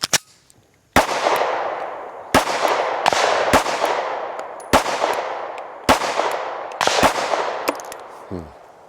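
Sharp gunshots from a Springfield Hellcat RDP pistol fired at a range, eight loud, distinct reports spaced roughly a second apart, each with a ringing decay, with no voices.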